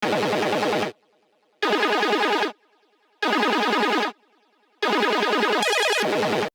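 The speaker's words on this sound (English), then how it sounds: "So what I ended up doing is going back into this rocket powered sound pack and choosing some keys. It's called Entertainment Machines." Synth keys from the Entertainment Machines preset in the Rocket Powered Sound pack, dry with no effects, playing four loud, dense chord stabs in a steady rhythm separated by short silences.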